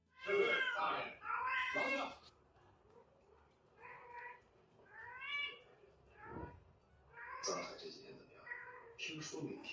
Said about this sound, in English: Your ceiling starts meowing.